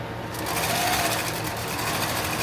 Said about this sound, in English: Start stitching our actual soft Velcro on.